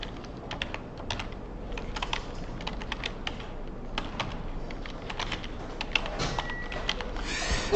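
Computer keyboard being typed on while filling in a table, with the Tab key pressed between entries; light, close clicking in short bursts and scattered single taps over a quiet background, no talk.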